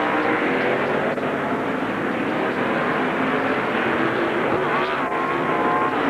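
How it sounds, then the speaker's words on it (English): NASCAR stock cars roar on track during a crash in a 2001 race, a dense continuous engine drone with crowd-like wash, loud and unbroken, no clear impact standing out. "Mark Martin is crashing. Johnny Benson is crashing in the aftermath. Another couple of cars involved"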